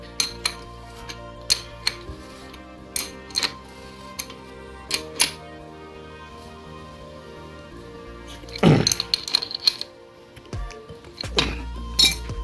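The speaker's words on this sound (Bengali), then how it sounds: "রেঞ্জটা লাগিয়ে ওইটা দিয়ে এটাকে কষে আবার টাইট দিয়ে দেবো" Metallic clicks and clinks of a wrench tightening a bicycle bottom bracket during servicing, a run of sharp separate ticks followed by a brief louder rattle near the end, close and without talk.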